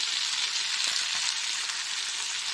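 Spices such as turmeric and cumin frying in hot oil for ghugni, a steady, close, hissing sizzle that continues evenly throughout with no voices.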